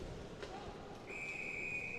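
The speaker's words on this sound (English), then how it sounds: "A whistle and a cross-check call." A referee's whistle at a youth U15 ice hockey game, a steady shrill tone held for about a second over arena crowd noise and a faint commentator voice.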